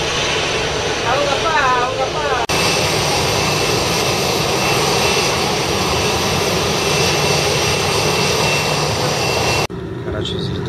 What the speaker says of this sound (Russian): Короче, взлетаю я.